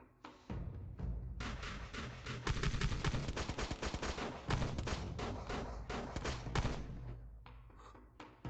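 Rapid, continuous gunfire rattles on a shooting course for several seconds after a command to begin, with dense, loud, closely spaced shots and a brief pause near the middle.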